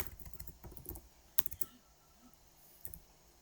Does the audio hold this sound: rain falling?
no